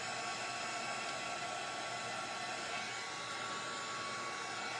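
Heat gun blowing hot air during bleaching, a continuous close hissing whoosh with a faint steady whine, unchanging throughout and no talk.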